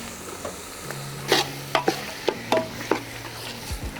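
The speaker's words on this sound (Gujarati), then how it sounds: "તેલમાં સસડાઈ નાખશું બધું બકાલું" Chopped vegetables such as potato, bottle gourd and cabbage sizzle in hot oil for a village-style khichdi, a steady fry punctuated by several sharp scraping stirs of a spoon against the pot, close and without talk.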